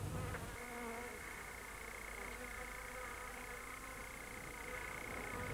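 A steady bee buzz hums continuously throughout, close and fairly even in loudness, with a faint background hiss and no voices.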